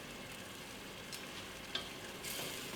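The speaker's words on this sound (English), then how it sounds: "We stir a little bit, And you let it kind of like bubble up." Tomato pasta sauce simmering in a pan while being stirred, a soft steady sizzle and bubbling hiss with faint scraping, close and quiet with no voices.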